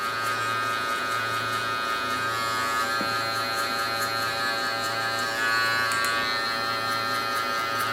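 Electric hair clippers fitted with a 1.5 guard buzz continuously during a taper haircut, a steady close-up drone that holds at an even level from start to finish.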